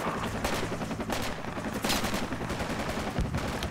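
Heavy gunfire in the military shooter game Project Reality, continuous overlapping bursts of automatic fire and single shots, loud and close, filling the whole stretch without talk.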